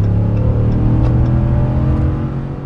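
A RAM 1500 pickup's 5.7-litre V8 HEMI engine revs loud and close, a steady deep rumble that holds for most of the clip and then eases slightly near the end, with no voices.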